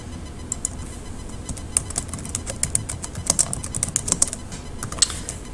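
Fast typing on a computer keyboard, light clicky keystrokes in irregular bursts with short pauses, close and clear against a quiet room.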